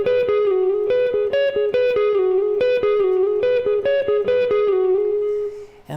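An electric guitar plays a trademark lick from a solo, a quick, bright repeating pattern of plucked notes with slight overdrive, loud and alone, ending on a held note.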